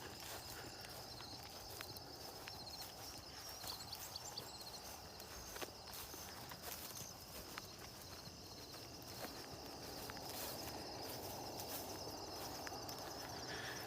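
Horses clip-clopping on a battlefield riding tour, a steady run of light hoof taps heard at a distance outdoors over a constant wash of insects and birdsong.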